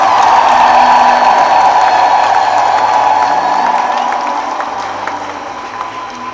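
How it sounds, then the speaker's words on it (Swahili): A church congregation at a Jubilee 2025 pilgrimage Mass in the Archdiocese of Dar es Salaam claps and ululates together: a dense, sustained wash of applause and high trilling cheers that is loud at first, then gradually fades. "Tumpigie Mungu makofi na vigelegele."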